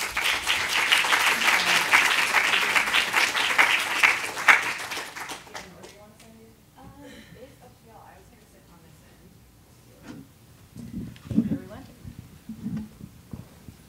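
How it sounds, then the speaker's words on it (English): Audience applause for panel speakers at a MoMA Art + Feminism event: dense, loud clapping from a crowd for about five seconds, then fading out into a quiet room with a few shuffles and faint murmurs. "round of applause for our speakers"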